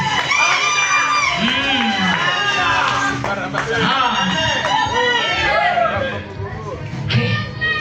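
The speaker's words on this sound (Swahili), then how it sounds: "Nione makofi na vigelegele kwa wale ambao Bwana amewabariki usiku wa leo" Church congregation at a cross-over overnight service cheering, with ululating whoops and shouts layered over steady loud crowd noise and clapping, while a voice speaks through it.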